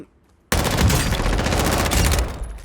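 An ISO 45 submachine gun fires a long, dense burst in the video game Warzone, loud and close, with rapid shots blurring into one roar that cuts in abruptly and then tails off.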